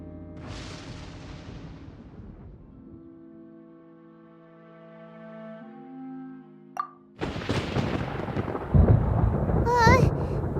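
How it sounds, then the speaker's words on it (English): Thunder rumbles in the Genshin Impact video game, a broad rolling crash that fades into a sustained tonal music bed, followed by another loud burst of storm noise with layered effects. "Paimon hears thunder!"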